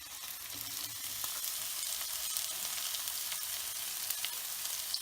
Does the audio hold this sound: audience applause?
no